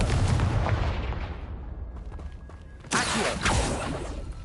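Explosion from the Confringo blast spell in a video game, a heavy boom that decays into rumble, followed by a second sharp burst close by.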